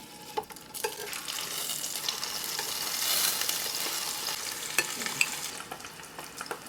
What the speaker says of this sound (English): Now we're ready to fry the Spam.